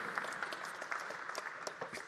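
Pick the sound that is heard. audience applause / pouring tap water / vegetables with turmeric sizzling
audience applause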